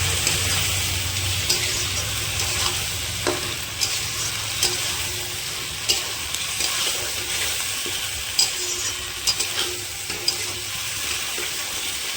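Marinated chicken for butter chicken curry fries in a pan with a steady, fairly loud sizzle. Regular clicks and scrapes of stirring run through it, and no voices are heard.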